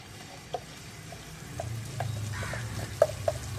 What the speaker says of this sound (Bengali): খুন্তি দিয়ে একটু লেড়ে চেড়ে একদম শুকনো শুকনো করে নেব